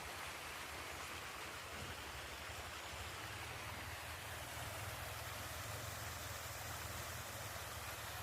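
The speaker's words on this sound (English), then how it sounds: "the small waterfall I was telling you about" A small waterfall on a nature walk gives a steady, even rush of falling water, constant and moderately distant, with no voices.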